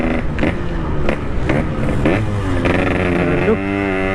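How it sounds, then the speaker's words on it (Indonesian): A Yamaha RX King motorcycle exhaust revving, with repeated throttle blips that rise and fall in pitch, loud and close, ending in a sustained higher-pitched rev. "Dan ini knalpot emang bener-bener ngisi dari bawah cuy."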